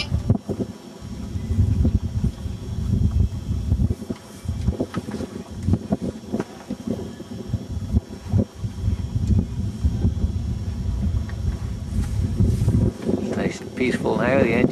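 A sailboat glides with its engine off on a cruise near Loch Allen, wind buffeting the microphone in gusty rumbles with water and rigging noise close by, and a voice briefly audible near the end.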